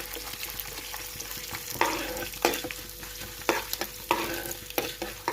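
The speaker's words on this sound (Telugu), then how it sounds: "ఆయిల్ హీట్ అయిందండి. ఇప్పుడు మినపప్పు, శనగపప్పు వేసుకోండి." Urad dal and chana dal fry in hot oil, a steady close sizzle broken by sharp scraping strokes as a spoon stirs the pan every second or so.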